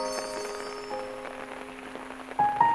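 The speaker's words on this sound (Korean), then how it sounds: "비가 오니까 더 좋은 것 같다." Rain falling steadily on a surface outdoors, a soft continuous patter with scattered drops, under a faint sustained tone and a brief brighter sound near the end.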